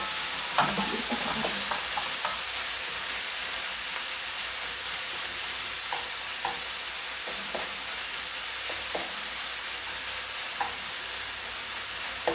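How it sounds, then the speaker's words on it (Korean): Pork chop for a Korean pork chop steak stir-fries in a pan over low heat, a steady soft sizzle with scattered light scraping and flipping clicks throughout, no voices. "불을 조정하면서 이렇게 볶아주세요 이렇게 앞뒤로 뒤집으면서도 하셔드리고"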